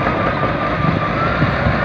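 A Cat SD13 bulldozer works on farmland, its heavy diesel engine droning steadily and loudly with a rough, continuous rumble and no pauses.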